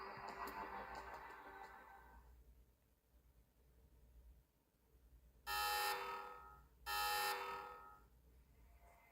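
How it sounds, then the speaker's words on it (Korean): A raid alarm on a ship in an Arknights story sounds as two loud, harsh buzzing blasts, each about a second long, with a short gap between them. They follow a quieter stretch of fading noise. "기습 경보?"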